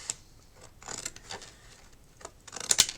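Scissors snipping off a spare strip of card at the end of a trifold concertina, a few quiet close cuts with a sharper louder snip near the end, no talking.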